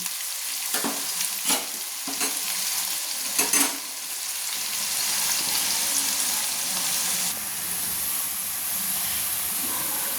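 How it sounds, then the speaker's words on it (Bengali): Onions fry with a loud, close, continuous sizzle in a pan, broken by a few sharp scraping stirs near the start. No one speaks. "এবার আমি পেঁয়াজটাকে লাল লাল করে ভেজে নেব"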